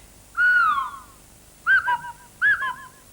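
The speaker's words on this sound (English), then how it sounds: "Oliver Postgate and Stephen Sylvester sat down with their Swanee whistles and whistled it" Swanee whistles sing Clangers-style dialogue, three separate sliding whistled phrases with rising and falling pitch like speech, close and clear against near silence.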